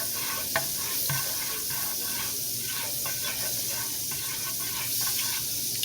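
Bacon and banana pancakes sizzling in a moderately hot pan: a steady, close hiss of frying with faint scattered crackles throughout and no voices.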